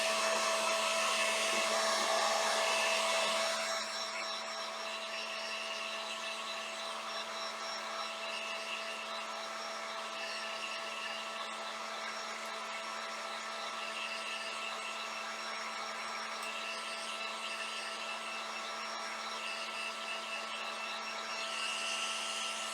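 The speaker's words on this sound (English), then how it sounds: "you can use your heat gun," Close, steady electric whir of a heat gun drying ink on a bunny garden home decor piece, loud at first, then dropping to a slightly softer continuous blow that holds until the end, with no talking.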